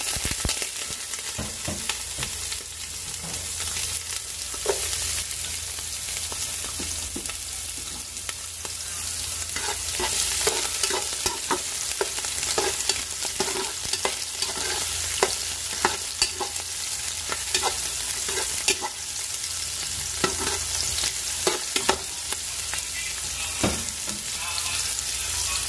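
Onions sizzle steadily in a pan for squid adobo while being stirred, with continuous frying crackle and frequent scraping clinks of a utensil throughout.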